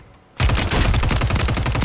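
Rapid automatic gunfire from Call of Duty Warzone Resurgence erupts abruptly after a short quiet moment, a loud sustained burst of closely spaced shots.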